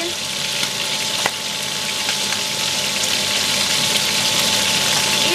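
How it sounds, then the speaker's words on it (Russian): Spices frying in a pan give a steady, close sizzle with faint crackle throughout, with a single light clink partway through and no talking. "И обжариваем немного."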